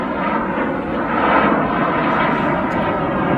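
A Cessna Citation jet climbs out after takeoff from Manchester Airport with a continuous buzzing, rasping engine drone that stays loud and steady, briefly swelling midway.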